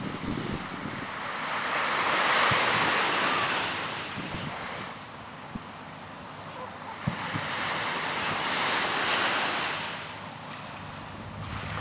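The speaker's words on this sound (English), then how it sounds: "This wind is whipping." Strong, cold wind roars near the Golden Gate area of San Francisco with the bridge in view, buffeting the microphone in long surging gusts over a steady rush like surf, loud and continuous.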